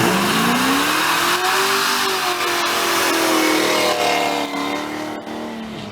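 A car leaving a car show revs hard for a burnout, its loud engine climbing and holding at a high whine, close and continuous with crowd noise underneath.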